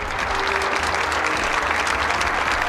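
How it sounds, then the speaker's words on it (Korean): An audience at a Korean government ceremony for advanced industry bursts into loud, sustained applause after a signing, a thick, even roar of clapping. "큰 박수 부탁드립니다"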